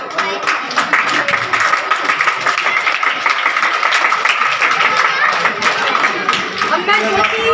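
Sustained applause from a group at a school event fills the scene, even and continuous, with some speech and chatter blended in.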